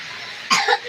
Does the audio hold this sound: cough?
yes